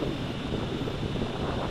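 Steady wind buffets the microphone while a Fineco FX-6C camera drone hovers outdoors, making a continuous, fairly loud rushing roar with no clear breaks.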